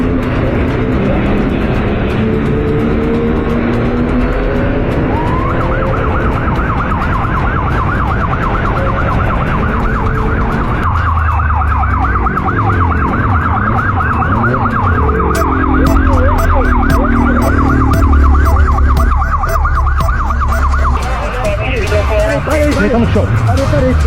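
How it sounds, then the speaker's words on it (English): Police sirens wail with a rising, warbling tone over loud motorcycle engine and traffic noise during a police chase, growing more intense, with a rapid yelping pattern later. "Sirens closed in."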